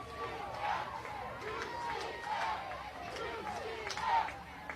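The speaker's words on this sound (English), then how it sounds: "UCF fans here trying to get the cheer going." UCF softball fans in the stands at a home game against Oklahoma try to raise a cheer, a diffuse, chant-like crowd rising and falling in rough waves, heard from a distance with no voice standing out.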